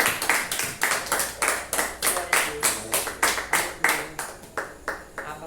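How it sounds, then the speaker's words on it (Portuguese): A church congregation claps in unison at a worship service, sharp rhythmic claps repeating at an even beat of about three per second, close and clear. "Aplauda o Senhor pela sua palavra."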